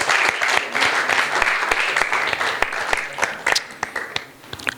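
A church congregation clapping hands during a sermon, a steady dense patter of many hands with sharper individual claps standing out, fairly close and continuous, with a faint voice briefly underneath.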